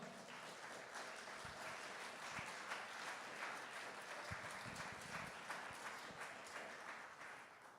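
Sustained applause from a large church congregation, a dense wash of clapping that holds steady and fades slightly at the end, heard from some distance.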